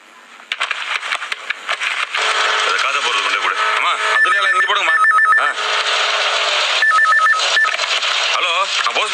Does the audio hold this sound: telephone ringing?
yes